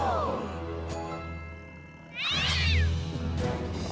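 A cartoon kitten in My Little Pony meows a few times, with one clear high wavering cry standing out over a steady low background hum and the show's other sounds.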